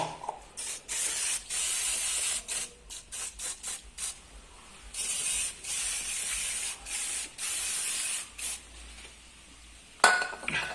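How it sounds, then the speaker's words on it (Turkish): Brake cleaner spray hisses in long and short bursts onto the axle of a Lada VAZ 2106 during an axle seal replacement. The loud, close jets are broken by brief pauses, and a metallic clink comes near the end. "Şimdi burayı bir balata spreyle bir temizleyelim."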